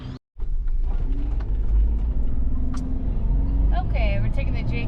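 A 2007 Jeep JK with a 1-ton axle swap cruises on highway pavement, its engine and road rumble steady and loud throughout, with tire and wind noise and a brief dropout near the start.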